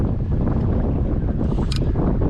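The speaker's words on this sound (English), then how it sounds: "and then hopefully that wind might drop." Strong wind buffets across an open reservoir while fly fishing at Ladybower in Derbyshire, a loud, continuous low rumble of gusts over the microphone with no other clear sounds.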